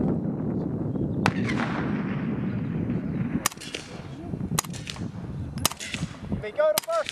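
A historic machine gun fires single shots on a range, about five loud sharp cracks spaced a second or more apart, each followed by a rolling echo over steady background noise.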